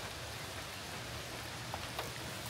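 Rain falling on a car windshield, a soft, steady hiss of patter with an occasional slightly louder drop, quiet and continuous.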